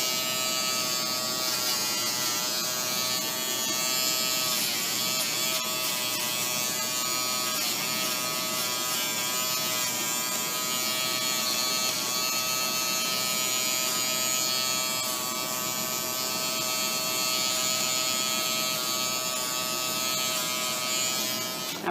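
Electric clippers buzz steadily and close up while shaving a puppy's face hair during grooming, a constant whine with slight shifts in pitch as the blades move, running almost unbroken with no talk.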